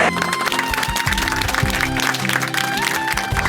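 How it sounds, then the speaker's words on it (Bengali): A studio audience on a Bengali TV show claps loudly for a couple being called onto the stage, with continuous dense applause and music playing underneath. "ওদের জন্য একটা জোরে হাততালি"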